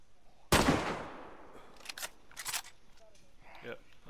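A single loud rifle shot from a 7.62x39 weapon in a sniping video game, a sharp crack with a decaying tail, followed by a few quieter clicks and handling noises.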